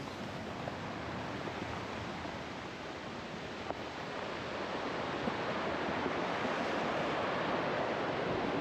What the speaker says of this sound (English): The waves are crashing over the walls.